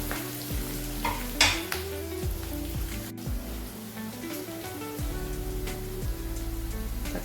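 Green chillies sauté in a pan for a chicken dish, giving a steady close sizzle with occasional stirring scrapes, alone and at moderate level.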